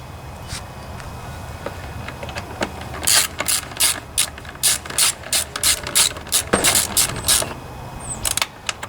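A ratchet wrench clicks in quick rhythmic bursts while turning Torx screws on a Toro Briggs & Stratton 7.25 163cc small engine, close and crisp, with no voices.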